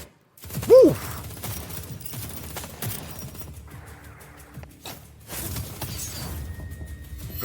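Gunfire in a Honkai Impact 3rd animated short: sharp sporadic shots and clattering impacts crack over cinematic sound effects and a soft musical bed, with a bright whoosh near the start.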